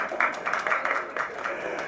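Sparse, uneven clapping from a couple of audience members at a film audio launch event, with a few scattered claps over a steady murmur of background noise.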